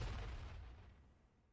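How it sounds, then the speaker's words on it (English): A single barrel explosion sound effect plays in Unreal Engine, a heavy boom at the start that decays into a fading low rumble over about a second and a half. "Let's try barrel. Explosion barrel."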